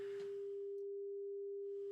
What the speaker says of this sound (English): we're playing a 400 Hz sine wave